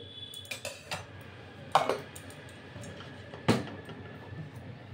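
A metal wok clanks down onto a stovetop with a couple of sharp knocks, followed by lighter clinks in a quiet kitchen.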